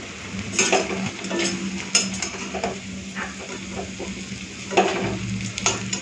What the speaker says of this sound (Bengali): তো যাই হোক, একটুখানি উল্টে পাল্টে লাল করে ভেজে নিই, তারপর তুলে নেব